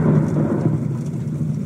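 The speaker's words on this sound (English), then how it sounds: "I'm just hearing thunder." Low rumbling thunder in the horror video game The Joy of Creation, a steady dull roll with rain-like hiss that carries evenly for a couple of seconds without any voices.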